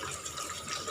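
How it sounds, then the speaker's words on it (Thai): Clean water poured into a cooking pot for a suki soup broth, a brief, fairly quiet steady splashing rush of liquid with no talk over it. "นี่เราก็เทน้ำลงมาได้น้ำสะอาด"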